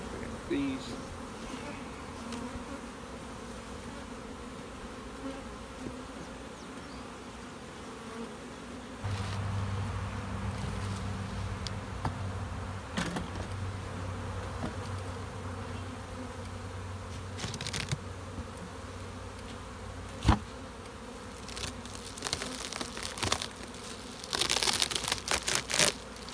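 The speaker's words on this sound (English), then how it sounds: "Bees." Honey bees buzz steadily around brood frames as a nuc is made up for a new queen, a dense, continuous hum lasting throughout, with occasional crinkling handling noises and brief knocks.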